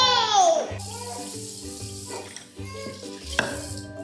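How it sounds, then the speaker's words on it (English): Water runs and splashes into a cup being filled for a toddler at home in the early morning, a continuous close trickle against background household tones and brief talk. "I'm getting you some water."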